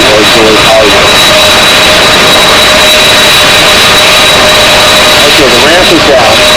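A C-5 Galaxy at an air show runs an engine or auxiliary power unit, producing a loud, steady jet roar with a piercing high whine that holds close and constant, with faint voices underneath.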